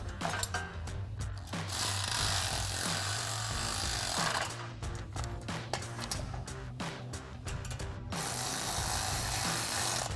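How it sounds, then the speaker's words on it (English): Hand tools tighten bolts with a 4mm Allen socket and a 10mm wrench while a RedRock XD1 aluminum roof rack is fitted to a Ford Bronco 2-door hard top. Quick ratcheting clicks and metallic scraping come in bursts, close and fairly quiet. "Then we'll grab our 4mm Allen socket and 10mm wrench and tighten these down."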